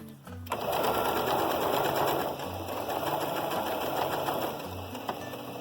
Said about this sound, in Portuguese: E vou começar a costurar aqui embaixo no cantinho. Também a 1 centímetro.